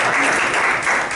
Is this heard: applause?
yes